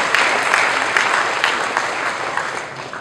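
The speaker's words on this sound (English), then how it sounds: "let's give them a big round of applause" An audience at a company town hall in KL claps to welcome new colleagues, a steady, dense wash of applause holding at an even level for several seconds with no talk over it.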